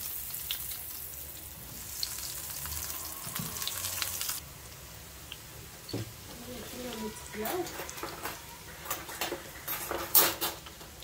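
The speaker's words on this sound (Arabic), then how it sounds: "اول حاجه في مقلاة غادي نبداو نقليو لي نوغات ديالنا" Chicken nuggets frying in a pan give off a steady broadband sizzle, with clinks of a utensil and pan knocks growing busier toward the end, near and moderately loud, with brief speech in the background.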